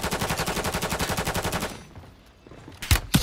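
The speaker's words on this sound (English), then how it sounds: "I'm getting shot from the right." Rapid automatic gunfire in a Call of Duty multiplayer match, a fast evenly spaced burst of shots for about one and a half seconds, then a pause and a couple of louder single shots near the end.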